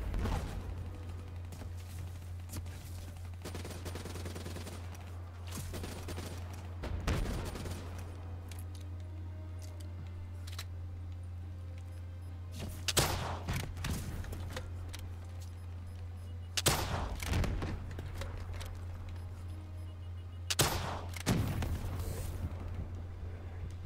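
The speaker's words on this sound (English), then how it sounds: "I'm getting my fucking tits blasted off by one of these fucking snipers" Gunfire in Call of Duty: Black Ops III with sniper fire in the mix, sharp reports spaced every few seconds over a constant low engine-like hum and battle noise, with no talking.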